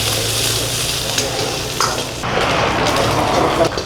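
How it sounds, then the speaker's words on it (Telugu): Onions, green chillies and curry leaves fry in oil in a pan for restaurant-style chicken fry, giving a steady, loud, dense sizzle and crackle close by with faint stirring, and no speech. "ఫస్ట్ ఆనియన్స్ వేసుకోవాలి. ఓకే, తర్వాత గ్రీన్ చిల్లీ వేసుకోవాలి, కరివేపాకు, ఇది బాగా ఫ్రై చేయాలి."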